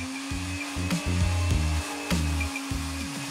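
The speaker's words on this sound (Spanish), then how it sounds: "vamos a seguir licuando mientras agregamos leche de a poquito" An electric hand blender whirring through homemade cream cheese as milk is added, with a steady motor drone broken by repeated surges and dips in pitch as the blade catches the mixture.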